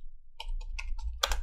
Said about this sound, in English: Okay, and then I type my full name